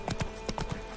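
Hooves of Roach the horse at a run in The Witcher III, with a quick, uneven burst of about eight close, clear clip-clop hoofbeats.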